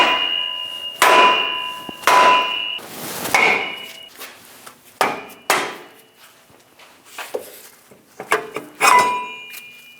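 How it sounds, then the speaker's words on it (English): A soft-face hammer strikes a rear brake rotor on a 2003-2025 Chevrolet Express 2500 to free it from the hub, producing a series of sharp, ringing metallic blows, about eight of them at uneven intervals, close and loud with no talk. "Using a hammer, we're going to break the rotor free from the hub"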